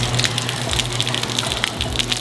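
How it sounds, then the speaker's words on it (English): Water pours down like a small waterfall inside a car workshop, a continuous loud gushing and splashing with sharp droplet spatter, close and steady throughout with no talking. "Look at that, I have my own personal waterfall back here."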